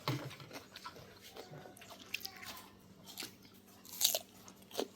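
Close-up crunchy chewing of fresh garden vegetables eaten with papaya salad, with irregular crisp bites and mouth sounds, fairly faint, with slight background noise.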